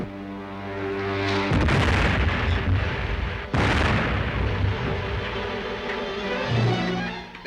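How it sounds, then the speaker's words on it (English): Bombs dropped from enemy spaceships explode near a snowy, icy mountain setting, heavy rumbling blasts rolling one into another with a sharp new burst midway, loud and sustained over a low droning background. "They're trying to bomb us."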